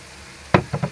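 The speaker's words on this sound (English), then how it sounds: "Right, I'm going to add the garlic now. Give that a little bit of a stir up." Garlic sizzling and frying in a wok, with a burst of hot crackle followed by two shorter scraping stirs, close and fairly loud.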